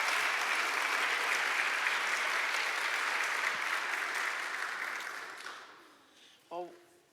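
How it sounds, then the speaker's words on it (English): A conference audience applauds steadily for several seconds, the clapping fading out toward the end before a brief voice is heard. "Let's give her another round of applause"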